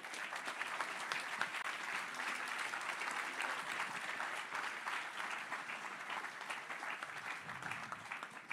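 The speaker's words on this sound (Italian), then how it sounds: "vi prego di accogliere con un grande applauso Giulia Pelucchi" Sustained applause from a large crowd at an Italian Democratic Party leadership candidacy event, steady and dense clapping throughout with no voices standing out.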